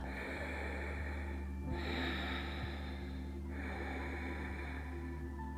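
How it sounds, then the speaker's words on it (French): Slow, deep breaths during a yoga stretch, a long drawn inhale followed by an exhale, close to the microphone and steady, with no talking over them. "Belle respiration."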